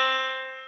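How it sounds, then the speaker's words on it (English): A single musical note, the pitch C, is played for a music theory lesson: a clear, sustained tone with rich overtones that starts at once and slowly decays over less than a second, alone. "That's how C sounds."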